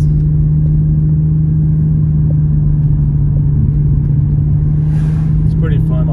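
Toyota Supra with an aftermarket steering wheel driving slowly, a steady low engine and road drone throughout, loud and close from inside the cabin, with people talking over it.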